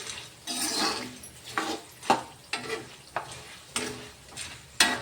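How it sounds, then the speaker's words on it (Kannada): Roasted gram sizzles in hot oil in a pan while a spoon stirs it, giving regular scraping clinks roughly every second over a soft frying hiss, close and clear. "ಎಣ್ಣೆ ಒಳಗೆ ಫ್ರೈ ಆಗ್ಬೇಕ್ರಿ ನೀಟಾಗಿ. ಈಗ ನೋಡ್ರಿ, ಚೆಂದಾಗಿ ಫ್ರೈ ಆಗ್ಯದ್ರಿ."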